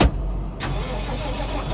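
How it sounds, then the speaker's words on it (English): A Massey Ferguson tractor engine starts on a farm with a sharp crank and catch, then settles into a steady, rumbling idle close by. "Oh, we'll fire up the Massey."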